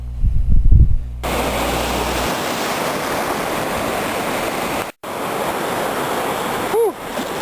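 Ocean surf washes steadily onto Moruga Beach at the southern tip of Trinidad, a loud continuous rush that is broken by a brief dropout, with a short burst of voices near the start.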